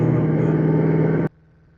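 A 1984 Honda VF700C Magna V4 engine idles steadily with a loud, even hum during carburetor synchronization, then cuts off abruptly, leaving near silence.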